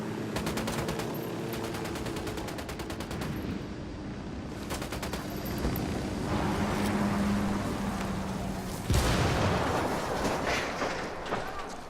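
Ghost Recon Wildlands gunfight as an escort vehicle is destroyed, with sustained automatic gunfire and rumbling blasts over engine noise, and a sharp explosive burst near the end.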